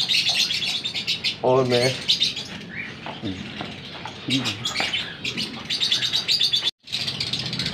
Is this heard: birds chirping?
yes